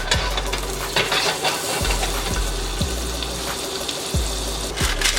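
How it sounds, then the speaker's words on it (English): Ricotta gnocchi sautéing in a pan of cold pressed olive oil and butter, giving a steady close sizzle and frying hiss with a few low thumps from the pan throughout. "Cold pressed olive oil, and now they're ready to saute."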